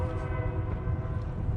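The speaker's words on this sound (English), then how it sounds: "Trains have been active tonight" Rail traffic near Monterey Bay on the California coast at night, a train rumbling steadily and close with sustained horn tones held throughout the brief stretch, no voices.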